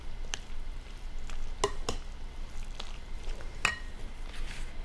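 Chopped vegetables sliding off a flexed Rada cutting board into a bowl, a handful of sharp, close clacks and knocks spaced irregularly over soft background hiss.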